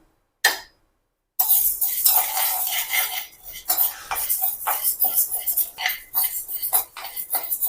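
Parboiled rice and fenugreek seeds being stirred in a pan, with close scraping and clinking of a spoon against metal in irregular strokes after a brief opening tap and pause, with light sizzling underneath.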